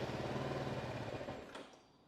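A BMW G310R motorcycle's starter cranks with zero throttle on a cold start, a close, rapid whirring churn lasting about a second and a half before fading away.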